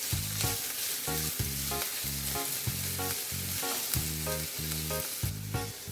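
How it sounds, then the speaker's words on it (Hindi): Onions frying in oil in a pan over medium-high heat, browning for a methi matar sabzi; a steady, close sizzle runs throughout with repeated rhythmic stirring or scraping bursts and no talking. "प्याज को आपको गोल्डन ब्राउन होने देना है"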